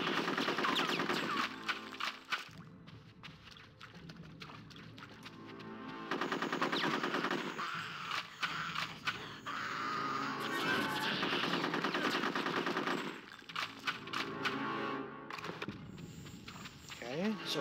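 Machine gun fire in a firefight in Conker's Bad Fur Day, long rattling bursts broken by brief pauses, with speech mixed in along the way.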